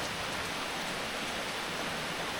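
Steady, even hiss of rain falling on surfaces at a waterfall, a continuous wash of sound with no pauses or voices.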